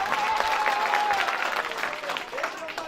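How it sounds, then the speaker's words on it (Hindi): An audience at an evening poetry gathering claps together, giving dense, moderately faint applause throughout, with a voice briefly audible above it. "एक बार तालियां बजाकर हौसला बढ़ाइए।"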